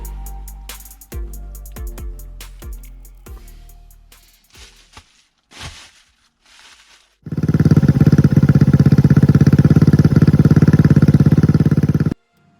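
A Honda Ruckus scooter fitted with a HotLap Japan Mamushi Type 2 exhaust starts with a few cranking pops and sputters, then settles into a loud, steady, throaty idle close by.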